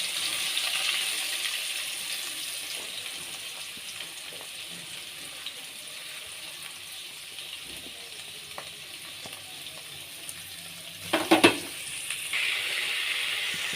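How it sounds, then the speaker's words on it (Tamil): Onions fry in oil for a prawn gravy, giving off a continuous close sizzle. A brief clatter of stirring breaks in near the end. "எண்ணெயில் நல்லா வதக்குங்க."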